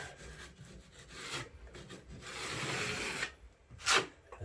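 A taping knife drags joint mud over drywall tape, giving close scraping, rubbing strokes that swell and fade, with a sharper swipe near the end, quiet and without talk.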